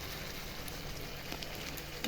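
Paneer curry fries steadily in a pan after garam masala goes in, giving a continuous soft sizzle with even crackle throughout and a small louder pop near the end.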